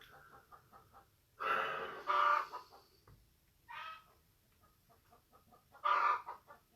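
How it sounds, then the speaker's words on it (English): Hens cluck and squawk outdoors in short loud bursts over a soft, steady background of quieter clucking, as one lays an egg. "Sounds like one of them's laying an egg outside."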